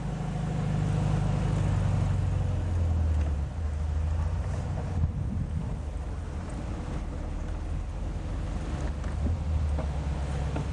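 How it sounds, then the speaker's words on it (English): A 1979 Volkswagen Beetle convertible with 8,000 original miles drives along with the top down, its low engine rumble steady under wind noise for about ten seconds, moderately quiet and without speech. "we're going to take it around and let you hear the motor run"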